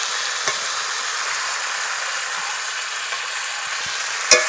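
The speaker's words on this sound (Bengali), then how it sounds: "এখন এগুলোকে একটু ভালো করে কষিয়ে নিতে হবে।" Cut eggplant fries in a pan with turmeric and chili powder, giving a steady, close hiss of sizzling oil throughout. A few faint stirring scrapes sit under the hiss, and a sharp clink of a utensil on the pan sounds near the end.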